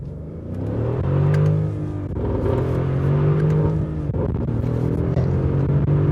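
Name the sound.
Mercedes GLE 63 AMG engine accelerating, manual gearbox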